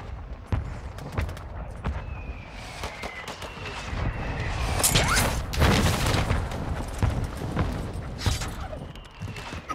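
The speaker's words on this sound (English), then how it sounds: "Friendly mortar strike on the way." A friendly mortar strike in Call of Duty Warzone 2 sets off a string of booming blasts and crackling gunfire that swell mid-clip over a busy, rumbling battlefield.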